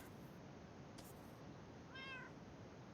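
A cat in the Minecraft video game gives a single short, faint meow late on, over a steady hiss of game ambience with a brief sharp noise earlier.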